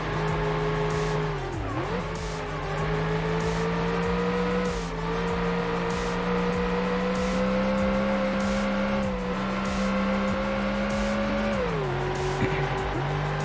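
Ford Mustang race car from the video game Ford Racing, its engine droning steadily at high revs with pitch dips at gear changes and brief tire squeals, loud and continuous throughout.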